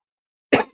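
A single short, sharp cough bursts out after silence, close to the microphone during a fantasy football podcast, lasting about a quarter second and fading quickly.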